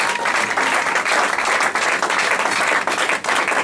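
Church congregation applauding and cheering in praise, a dense, loud, sustained wash of clapping with crowd voices mixed in, unbroken for a few seconds.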